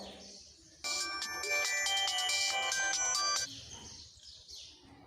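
A phone ringtone plays a bright, melodic electronic tune for a few seconds, loud and close, then cuts off into quiet room noise.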